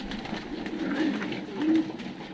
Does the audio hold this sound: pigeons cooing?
yes